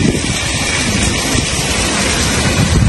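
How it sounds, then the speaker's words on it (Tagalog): Heavy rain pours down in a dense, steady roar, loud and close, with no voices. "lakas sa ulan"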